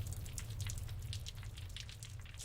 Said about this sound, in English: The samples themselves, like the rain and so forth, they transpose really well.